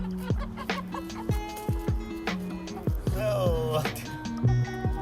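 Chickens cluck around a backyard coop in a large predator-proof run, with repeated close clucks and squawks in an uneven rhythm and a louder drawn-out call near the middle.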